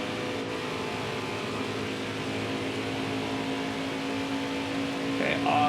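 Steady race car engine drone from the NASCAR Heat 4 video game, with several engines humming continuously at close range, a constant tonal roar that swells slightly near the end.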